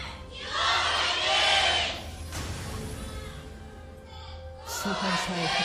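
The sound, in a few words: esports fans cheering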